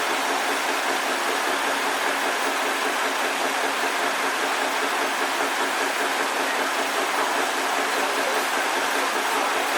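A vintage tractor engine runs at a steam and vintage machinery show, a steady, unbroken mechanical drone with a fine rapid pulse, close and even in level from start to finish, with no voices.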